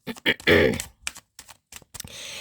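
Tarot cards being shuffled in a few quick, crisp riffling bursts separated by short pauses, close and fairly loud, ending in a softer, steadier rustle.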